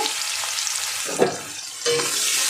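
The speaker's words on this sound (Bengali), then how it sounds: "পেঁয়াজটা একটু ভেজে নেব" Chopped medium-sized onion fries in oil with a bay leaf, giving a steady sizzle, with a couple of brief scrapes of a spoon stirring the pan, close by and free of speech.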